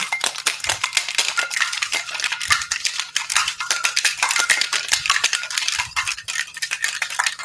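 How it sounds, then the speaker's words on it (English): Cocktail shaker rattling with ice while mixing a Halloween-inspired whiskey cocktail, a loud, steady, fast rhythmic clatter of ice against metal filling the whole stretch, heard alone without talk. "And then we're going to go ahead and shake it all up. Give it a good shake."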